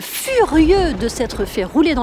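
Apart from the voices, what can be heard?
None of the usual background noises is heard.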